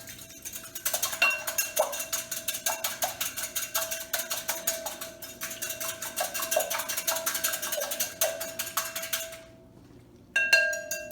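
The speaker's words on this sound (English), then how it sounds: "You need to beat 2 eggs" Two eggs beaten in a bowl for pumpkin pie filling: a fast, steady metallic clinking of a whisk or fork against the bowl, loud and close, running for about nine seconds, a short pause, then resuming.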